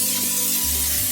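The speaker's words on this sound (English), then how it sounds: "I'm going to spray down my crock pot." A short hiss of cooking spray coats the inside of a crock pot, one brief close burst with no talking.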